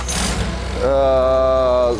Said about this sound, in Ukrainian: Покажи, що вже запускається, вже встановлений Н-57 двигун.